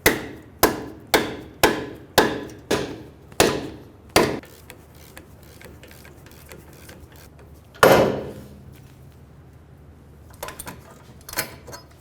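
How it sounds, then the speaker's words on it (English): A ball joint removal tool separates the front lower ball joint from the steering knuckle of a 2003-2008 Honda Pilot, with a quick run of about seven sharp, close striking blows, a pause, then one louder hit. "I'm going to be using a ball joint removal tool."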